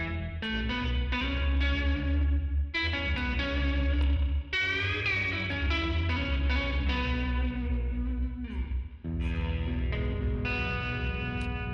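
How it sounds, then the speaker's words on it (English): Electric guitar chords played through a Dark Star Stereo reverb pedal set to a very short, almost delay-like reverb, each strum trailing into a brief echoing wash. "with these 3 knobs all the way down, you get a very short, almost delay-like reverb sound"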